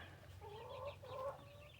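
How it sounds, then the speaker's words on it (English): Small brown hen clucking in a backyard coop, a soft run of murmuring clucks over a low steady background hum, faint and at a moderate distance. "And then we have one of our little brown hens right there."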